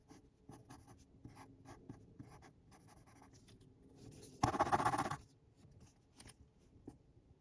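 A Morning Glory Sketch 1000 flat 1.8 mm pencil drawing on paper, soft scratchy graphite strokes in short bursts with a louder, denser scribbling stretch midway, close and quiet.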